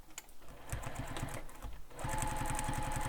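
A sewing machine stitches a backpack seam in quick rhythmic bursts, pausing briefly before settling into a fast, steady, close-up run of stitches.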